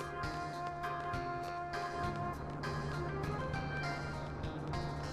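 A bus in the Final Fantasy VIII video game gives a steady engine drone with a musical, tonal texture and scattered clicks and knocks, fairly loud and continuous, with no voices.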